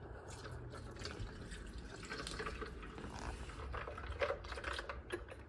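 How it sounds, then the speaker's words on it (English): Milk poured over ice in a blender jar for a peanut butter smoothie, a steady low liquid gurgle and trickle with faint clinks from the ice, close and fairly quiet, no talking. "then put a little bit of milk"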